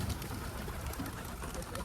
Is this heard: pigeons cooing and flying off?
yes